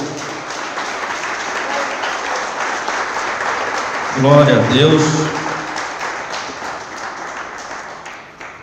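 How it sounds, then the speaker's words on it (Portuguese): Congregation in a church applauding God during a sermon, a steady wash of clapping throughout with a louder burst in the middle as a voice calls out praise over it. "Vamos aplaudir nosso Deus."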